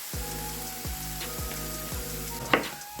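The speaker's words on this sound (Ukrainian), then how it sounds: "Тепер обсмажуємо її на пательні до золотистого кольору." Steady sizzling and crackling of food frying in a pan in about one and a half tablespoons of oil, with a faint rhythmic tone underneath and one sharp clink near the end.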